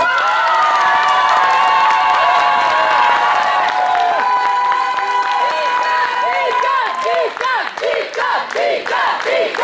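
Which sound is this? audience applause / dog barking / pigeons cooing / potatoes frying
audience applause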